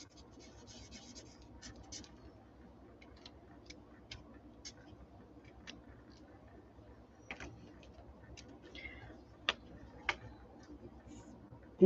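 A chisel tip marker scratches in short, faint strokes on a crafting surface, with small ticks and taps scattered between the strokes.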